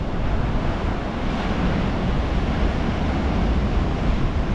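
Sea waves breaking continuously on Hastings beach, a steady loud wash of surf with wind noise buffeting the microphone.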